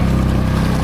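An outboard engine on a fishing kayak runs steadily on the open sea off Pangkor, Malaysia, a loud, continuous low drone with no talk.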